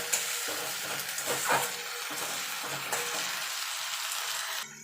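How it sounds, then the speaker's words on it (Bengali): Ginger and garlic paste frying and being stirred in a pan while a fish curry is cooked with winter vegetables, a steady close sizzle under stirring scrapes, with no voices. "এবার আদা রসুনটা একটুখানি ভাজা ভাজা করে নেবো, যাতে আদা রসুনের কাঁচা গন্ধটা চলে যায়।"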